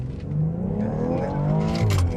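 A BMW X3 M40i accelerates hard from standstill in a 0 to 100 run, its engine note rising and steady, close and alone with no talk.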